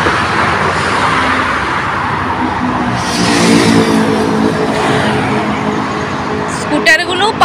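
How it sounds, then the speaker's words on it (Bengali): Cars rushing past at speed on a fenced highway in America, a loud continuous roar of tyres and engines with rising swells as vehicles pass close by, and a voice talking over the traffic. "কত স্পিডে গাড়ি যাচ্ছে দেখো"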